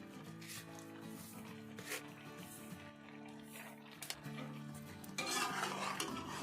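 Carrot halwa with sugar being stirred in a pan, with scraping utensil sounds and light clinks running steadily under background music.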